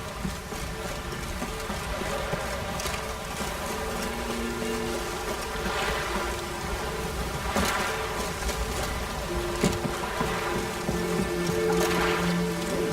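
Steady rain in the fantasy video game The Witcher 3 hisses evenly throughout, with occasional louder swells and faint tonal game sounds underneath; no one speaks.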